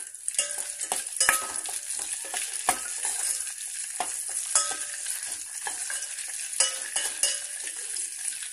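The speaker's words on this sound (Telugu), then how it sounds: "బౌల్ పెట్టుకొని కొద్దిగా నెయ్యి వేసుకున్నానండి జీడిపప్పు వేయించుకోవడానికి" Cashew nuts fry in a small bowl of hot ghee, giving a continuous bright sizzle broken by repeated sharp clicks and scrapes as they are turned, close and fairly loud.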